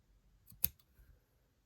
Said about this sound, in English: So just take some really sharp scissors and start cutting through the